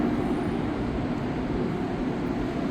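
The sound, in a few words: Montreal Green Line metro train passing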